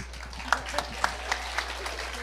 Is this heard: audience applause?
yes